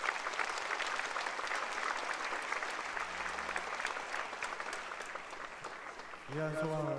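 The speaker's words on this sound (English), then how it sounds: "Let's give Reverend Kathy another big round of applause for her special message" Audience applause fills a hall at the 2017 Seonghwa Festival, a religious gathering: dense, steady clapping from a large crowd lasting several seconds before a voice begins speaking near the end.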